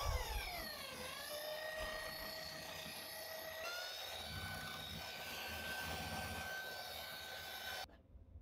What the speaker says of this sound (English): So now I'm using a 3mm drill bit to drill out the pin.